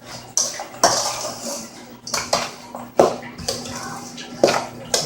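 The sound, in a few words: mixing creamy broccoli salad in a bowl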